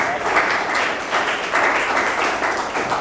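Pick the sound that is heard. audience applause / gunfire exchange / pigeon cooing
audience applause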